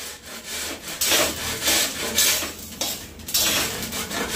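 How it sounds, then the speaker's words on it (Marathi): Jaggery being grated by hand for sesame laddoos, a steady close rasping scrape in repeated strokes with no talk over it. "दोघंच्या दोघं बघ कसे बसले गुळ किसायला बघताय."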